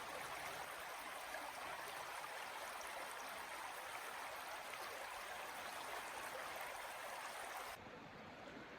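A river flows steadily through a snowy forest, a constant broadband rush of water heard close and loud for the whole stretch, easing slightly at the very end, with no talking.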